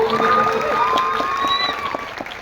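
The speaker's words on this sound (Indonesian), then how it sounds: "Tepuk tangan untuk SMA 2." Scattered clapping mixed with crowd noise and a sustained tonal sound at a school Isra' Mi'raj religious lecture in Situbondo, Indonesia, fairly loud and steady throughout.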